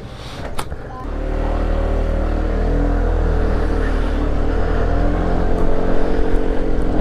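A Venture 150 motorcycle engine starts with a brief crank, then settles into a loud, steady close-up idle with rising revs toward the end; no talking.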